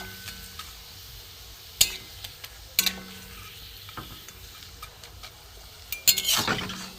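Boiled-potato papad frying in hot oil, a faint steady sizzle with a few sharp clicks and scrapes of a utensil against the pan, ending in a short burst of louder crackling.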